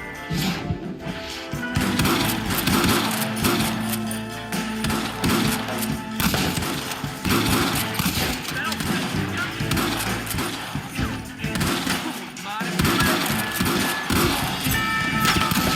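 A loud, dense barrage of gunfire from the video game Red Dead Redemption, with shots and crashes piling up almost without pause in a chaotic shootout, and shouted voices mixed in.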